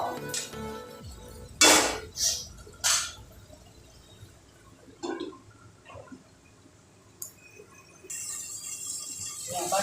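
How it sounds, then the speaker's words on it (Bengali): A metal lid lifted off a pan of tomato curry cooking for a pabda fish dish, a few sharp clinks and clatters followed by quieter scraping and a soft sizzle. "এবার ঢাকাটা খুলে নিলাম"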